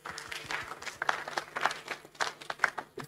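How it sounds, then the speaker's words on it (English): Scattered audience applause for Greg Day, the MTF representative, at an evening transport forum in Port Phillip; fairly faint, uneven claps from a modest crowd over a few seconds. "So Greg deserves a round of applause."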